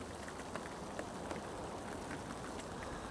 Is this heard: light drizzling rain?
yes